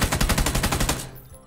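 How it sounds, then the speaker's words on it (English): Rapid automatic gunfire from PlayerUnknown's Battlegrounds, a loud, fast burst of about ten shots that stops abruptly and trails off into a short decay. "On my screen, you're shooting at the floor."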